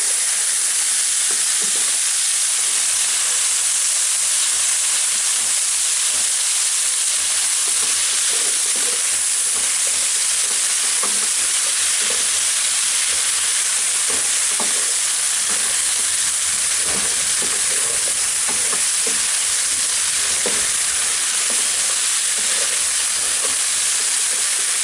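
Parboiled, lightly salted chicken pieces hit a hot oiled pan and sizzle steadily throughout, a dense continuous frying hiss with occasional stirring clicks, close and fairly loud, no voices.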